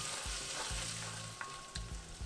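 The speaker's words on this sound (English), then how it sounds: "Just give that ginger garlic a quick saute until all the rawness" Ginger and garlic sautéing in a hot kadai, a close, steady sizzle and crackle of frying with a few soft stirring scrapes, loud and without any talking over it.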